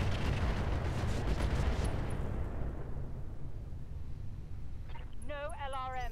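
SRM Inferno missiles launch in the Roguetech mod of BattleTech, a dense roaring barrage of blasts and rumbling explosions that fades into a low rumble, with a brief voice-like warble near the end.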